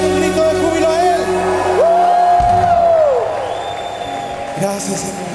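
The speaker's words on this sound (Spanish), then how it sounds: "Vamos a dar un grito de júbilo a Él." A church congregation lets out a loud, sustained shout of joy during Spanish-language worship, a rising collective whoop over ongoing speech and crowd noise.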